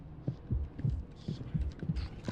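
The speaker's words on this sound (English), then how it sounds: "Why is my heart beating so fast in my head in this?" A heartbeat in the SCP Fragmented Minds horror video game thumps in a fast, regular double pulse, six beats close and muffled over a faint hum.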